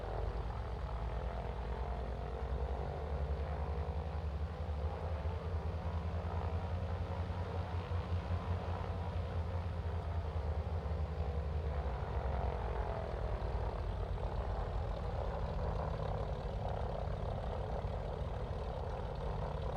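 AzurPoly TB-30 Epsilon propeller trainer in Microsoft Flight Simulator 2024 taxiing toward runway 20 right, its engine a steady, loud, continuous drone with low rumble and tonal hum that holds level throughout, no voices.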